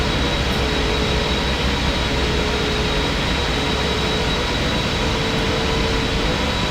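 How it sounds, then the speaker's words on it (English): A PMDG 777-300ER airliner lands at Philadelphia in Microsoft Flight Simulator, a constant loud broadband roar of jet engines and wind with a faint steady whine, no voices. "enjoy the rest of the replay of this butter landing down in Philadelphia"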